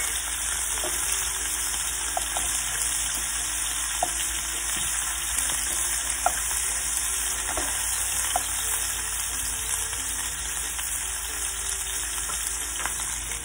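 Spices and onions frying in a pan for an okra and beef stew, a dense steady sizzle with occasional light stirring clicks, close and loud with no talking.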